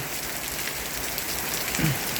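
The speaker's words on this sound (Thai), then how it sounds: "ฝนตกค่ะบรรยากาศสุดยอดเลยค่ะ" Steady rainfall patters densely and evenly on surfaces nearby, a continuous close hiss with no voices over it.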